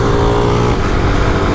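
Modified motorcycles, one of them a Bajaj Discover, ride together and produce a loud, steady engine roar close by that fills the whole moment without a break.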